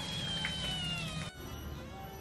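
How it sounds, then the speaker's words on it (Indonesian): A pet cat at a home in a small village, giving a drawn-out meow over steady background noise, fairly faint, with no talk. "ini si Oren, kucing kesayangan ibuku dan kucing kesayanganku."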